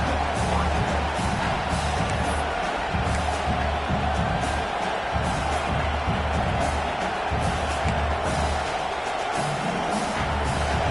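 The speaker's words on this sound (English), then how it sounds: "And here comes the noise. This crowd is trying to inspire this defense to make a big red zone stop." Steady, dense roar of a stadium crowd in a college football video game during a red zone defensive stand, constant and fairly loud throughout with faint whoops and cheers rising within the wash.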